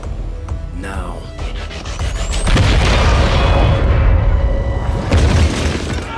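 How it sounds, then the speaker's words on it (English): A deep booming explosion of set charges in the video game XCOM 2 erupts and rolls on for several seconds, loud and rumbling, with debris-like crackle and a voice briefly beforehand. "Explosion! Received."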